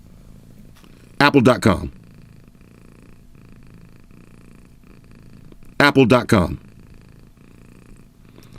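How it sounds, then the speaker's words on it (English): A cat purrs right against the microphone, a low rumbling hum under the quiet background. Twice someone speaks briefly over it. "purring, interfering with the mic."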